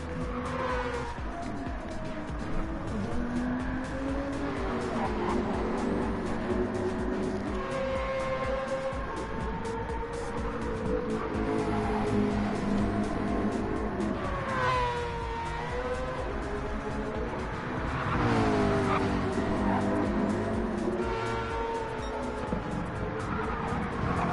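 Race cars in an auto racing video game: engines whine and rise and fall in pitch without a break as cars pass through the mix, with occasional tire squeal and no voices.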